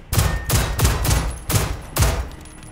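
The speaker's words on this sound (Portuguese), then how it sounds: "eu vou parar de dar tiro de pistola" Five sharp pistol shots in Generation Zero fire in a steady rhythm about half a second apart, loud and punchy with brief decays.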